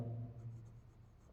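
Notes are written by hand during a lecture on bacterial culture techniques, a faint, soft scratch of writing over a quiet low room hum, with no talking heard.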